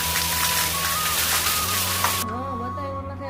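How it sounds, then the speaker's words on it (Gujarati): Heavy rain falls as a dense hissing wash at a Gujarati family home, close and loud, then cuts off abruptly, leaving a faint background with a few chirping tones. "વરસાદ છે."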